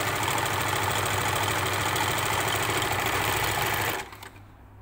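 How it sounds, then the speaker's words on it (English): Overlocker sewing machine stitching a calico hem, a steady fast mechanical whirring hum running continuously up close before stopping abruptly near the end. "So I've overlocked my hem."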